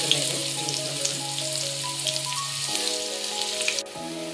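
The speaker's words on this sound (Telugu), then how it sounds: "దీనిలో ముందుగా ఆనియన్స్ వేసేస్తాను." Onions fry in a pan for a ridge gourd egg curry, giving a steady close sizzle with light crackles throughout and no talking.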